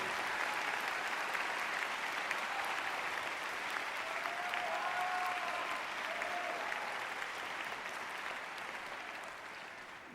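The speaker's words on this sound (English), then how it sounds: "I would like us to take a moment and give applause to Dr. Johnson" A graduation crowd at Northwood High School applauds its principal, a broad sustained roar of many clapping hands from a large hall, steady for several seconds before easing slightly toward the end.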